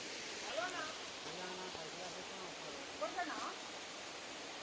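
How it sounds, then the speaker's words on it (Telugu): Muthyala Dhara waterfall, the highest in Telangana, gives a faint, steady broadband roar of falling water heard from some distance, with a few soft voices and chirps drifting in over it. "this is the Telangana highest water falls"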